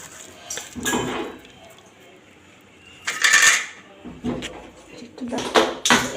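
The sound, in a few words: mixing egg chutney by hand in a bowl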